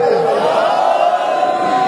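A crowd at a Sindhi majlis shouting the Nara-e-Haidari slogan together, a loud sustained mass of voices in one drawn-out cry, close and filling the space.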